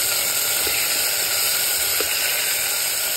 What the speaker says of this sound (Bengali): ভাজা ভাজা হয়ে গেলে সবজিটা, ডালটা দিয়ে দেবো।